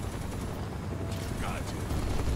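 Gunfire from the video game Final Fantasy VII Rebirth comes in a rapid run of shots over a dense, noisy game soundtrack.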